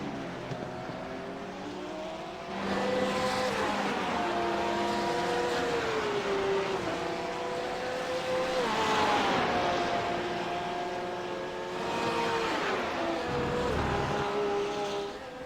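GT3 race cars screaming down the long straightaway at Road Atlanta on the final lap, several engines passing one after another with rising and falling whines as they shift gears, loud and close, with no talk.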